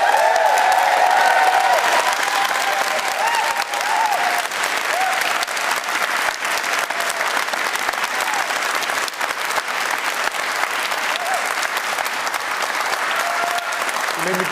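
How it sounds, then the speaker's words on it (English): An audience at a book festival event in Edinburgh cheers and applauds in a sustained, dense wave of clapping and whoops that stays loud throughout before easing only slightly. "giving a massive, big cheer to welcome home to the country of his birth, the creator of Shuggie Bain, Booker Prize winner, Douglas Stewart."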